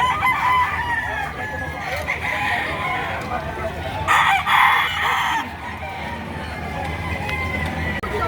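Roosters and hens crow and cluck at a chicken market in Batangas, Philippines, with one clear crow standing out midway over steady crowd noise and voices.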